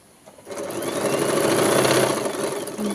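A sewing machine stitching straight along dotted lines on a girl's frock, starting after a brief pause and then running in a steady, close, continuous whirring burst for a couple of seconds before slowing.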